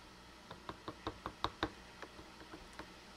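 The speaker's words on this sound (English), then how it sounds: "now we're going to ladle it into our jars" Cooked blueberry butter being ladled into quarter-pint canning jars, heard as a quiet run of small glassy clinks and taps in an even rhythm, close and soft with no talk.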